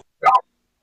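A dog gives a single short bark, loud and close, in an otherwise quiet moment.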